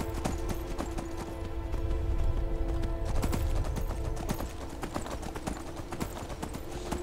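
Horse hooves gallop in Skyrim, a steady rapid clip-clop running the whole time over a constant game ambience and low rumble, fairly close and even in loudness.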